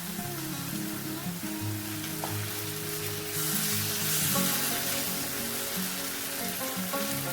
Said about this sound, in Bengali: এই মশলাটা খুব ভালো করে কষাতে হবে যাতে কাঁচা গন্ধটা একদমই না থাকে